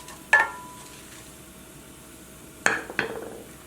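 Metal spoon clinks against a pan as cumin seeds and two whole red chilies fry, three sharp clatters with a soft sizzle fading between them, no voices.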